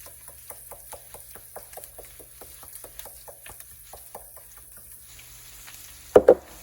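Seasoned stuffed pepper filling, dusted with black pepper and salt, is stirred in a pan, giving a steady run of soft scraping and sizzling ticks that ends in two louder knocks.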